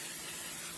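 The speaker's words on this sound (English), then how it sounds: "I'm going to spray my pan generously" A brief, steady hiss of cooking spray onto a pan from close by, soft and continuous with no other sounds.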